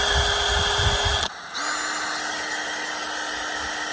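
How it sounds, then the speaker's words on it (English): A power drill whines steadily, cuts out briefly, then spins up again and runs at a constant pitch, close by, drilling holes in a Land Rover Defender door. "I'm just going to pop a drill through on each one of those holes"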